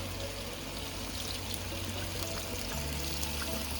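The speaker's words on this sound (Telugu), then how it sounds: "ఇప్పుడు కొన్ని నీళ్ళు పోసుకుందాం." Water poured steadily into a pan of simmering egg and drumstick curry, a continuous close pouring stream over a low cooking hum, with no talking.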